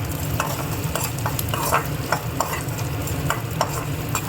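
Onions sautéing with salt in a pan, with a steady close frying hiss and a spatula stirring and scraping at irregular intervals throughout, with no voices.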